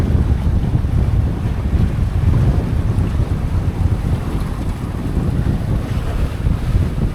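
Strong wind buffets a sailboat at sea off the Dodecanese in Greece, a steady loud roar with microphone rumble and the wash of waves that runs without a break from start to finish.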